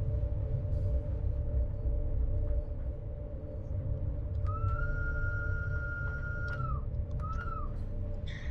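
A Rhaetian Railway Allegra electric train on the Bernina line sounds a sustained whistle tone over a steady low rumble of running gear, followed by a second shorter blast, both fairly close.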